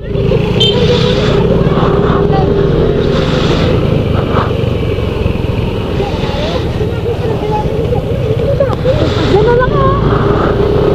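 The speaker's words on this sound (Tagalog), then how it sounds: "Nagdadrive ako ng motor." A motorcycle being ridden, its engine a steady, loud drone mixed with wind rush close to the microphone, with occasional voices heard faintly under the noise.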